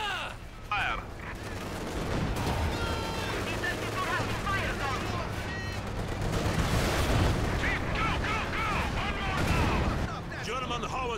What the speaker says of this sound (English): German howitzers are still pounding the village